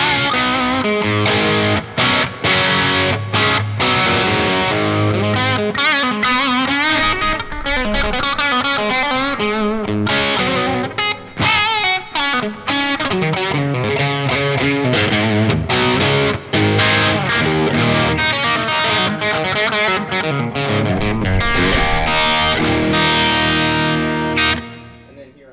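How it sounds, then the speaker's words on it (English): An Epiphone Casino hollow-body electric guitar played through a Fulltone OCD overdrive pedal into a clean amp channel, giving a gritty, Marshall-like, moderately saturated crunch over a continuous loud passage of strummed chords and riffs. "this is just a clean channel with the OCD, and it's kind of a Marshall-y tone because the OCD has a Marshall grind to it"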